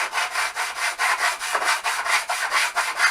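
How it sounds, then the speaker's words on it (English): Balsa wood sheeting on the top of an RC plane wing (L39 RBC kit) being sanded by hand, a steady run of rhythmic rasping strokes about three per second, close and fairly loud with no talk. "This is now going to be down to sanding"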